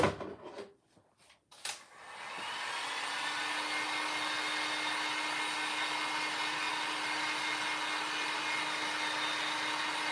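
A hair dryer blows steadily at close range to dry an item, a continuous whooshing whine after a few short knocks and handling sounds at the start, with no speech.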